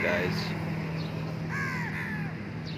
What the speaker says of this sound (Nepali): कागहरू खाना दिएपछि आउँदो रहेछन् खानको लागि